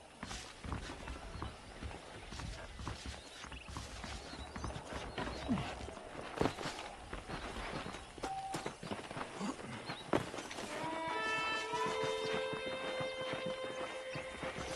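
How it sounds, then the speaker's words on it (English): Horses' hooves clip-clop in the Red Dead Redemption video game, a steady walking rhythm of hoof falls over a busy game soundscape, with a faint tonal chime entering near the end. "The horses are saddled up over here."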